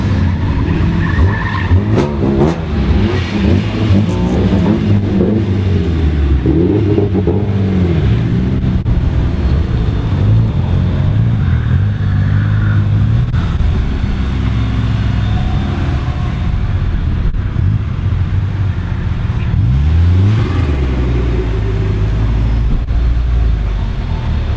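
Drift car at Drift Matsuri, loud and close, engine revving hard and swooping up and down in pitch under continuous tire squeal and skidding for the whole stretch.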